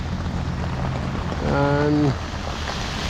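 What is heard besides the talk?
heavy rain during a motorbike ride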